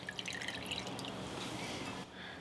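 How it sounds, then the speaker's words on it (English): Wet curtido cabbage slaw dripping and trickling back into its liquid as it is lifted out for pupusas, a brief close patter of drips over soft splashing, with no talking. "Just take it out of the liquid and put it right in the separate bowl."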